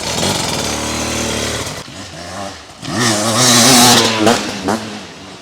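A 2025 Beta RR X-Pro 300 dirt bike engine drones steadily, then revs up hard and drops back with rising and falling pitch, loud and close.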